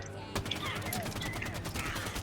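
Rapid gunfire and weapon blasts from the Halo 5 video game, a dense burst of shots running continuously for a couple of seconds with game noise underneath and no speech.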